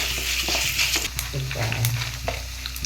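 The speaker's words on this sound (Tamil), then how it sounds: "கடலைப்பருப்பு போட்டு நல்லா பொன்னிறமாக வறுத்துக்கணும்." Chana dal frying in oil until golden for a pepper tomato chutney, a continuous close sizzle with stirring scrapes throughout, no voices.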